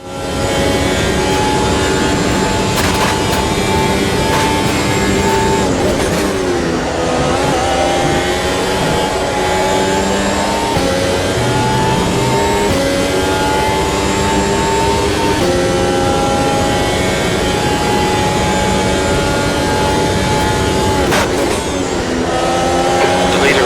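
Race car engine roaring through a hot lap at Monza in the Automobilista racing video game, a continuous loud high-revving whine with rising pitch sweeps through gear changes and brief dips under braking.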